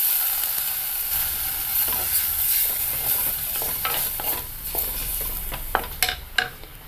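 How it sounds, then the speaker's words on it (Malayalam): Tamarind water hits hot spices and Kashmiri chili powder in a pan for a dried prawn and mango curry, and a loud, hissing sizzle follows. Stirring scrapes and clinks against the pan and builds toward the end, close by, with no talking. "അതിലേക്ക് പുളിവെള്ളം ചേർക്കാം."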